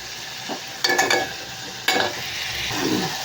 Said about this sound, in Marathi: हे आपण चांगलं परतून घेणार आहोत